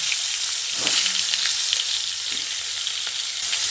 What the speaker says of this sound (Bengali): এবার আমি যে পটলগুলোকে ম্যারিনেট করে রেখে দিয়েছিলাম সেই পটলগুলো এই গরম তেলে দিয়ে দিলাম।